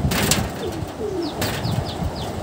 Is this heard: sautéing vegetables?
no